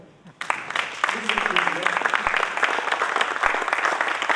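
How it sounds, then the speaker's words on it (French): After a sudden start, an audience at a sustainable-territories event in Le Creusot breaks into steady applause, many hands clapping with some voices mixed in. "Je crois qu'on peut l'applaudir."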